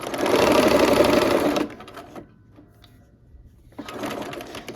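Sewing machine stitching quilt block stem pieces at a 1/4 inch seam allowance, running in a steady, loud whirring burst, then pausing in near quiet before starting up again near the end.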